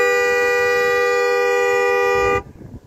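A single loud, steady half-time siren blast at a football match, with a rich harmonic tone, holds for over two seconds, then cuts off abruptly into faint background noise.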